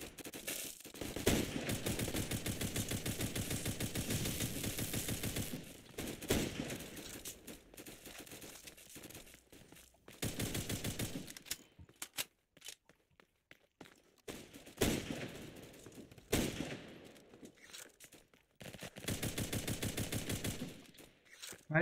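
Rapid bursts of Glock pistol fire in a video game, sharp repeated shots in several clusters separated by quieter gaps, close and loud, with someone talking at times.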